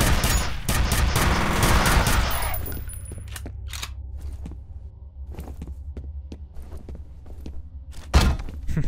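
Shotgun blasts and other combat noise from the video game F.E.A.R. come as a burst of loud, sharp shots that fade into scattered bangs and thuds over a low rumble, with a final heavy blast near the end.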